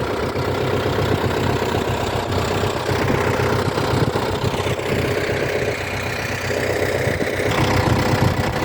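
A Yanmar YM357A tractor's direct-injection diesel engine idles close by, a continuous low rumble with a faint knocking texture that holds even throughout.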